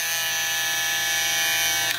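A JVPro Shadow electric foil shaver hums steadily and close, a constant high buzzing whine with no pauses and no voices.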